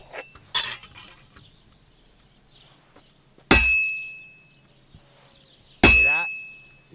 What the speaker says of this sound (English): Besides the sparks, you can tell a good strike by the sound it makes.